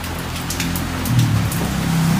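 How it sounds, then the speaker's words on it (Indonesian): Steady rain patters outdoors during plant propagation work, a dense, even hiss of drops with no voices, close and continuous throughout. "Di sini lagi hujan teman-teman, jadi mohon maaf agak gemericik gitu ya"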